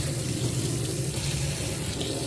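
Hot water runs steadily from a faucet into a sink while parts of a Shark vacuum cleaner are rinsed, a constant close rushing with no talk.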